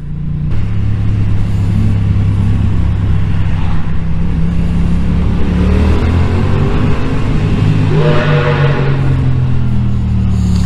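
A car engine revving hard during a group drive, a loud continuous roar that climbs and falls in pitch with several rising sweeps from throttle blips, close and unbroken, with no talk over it.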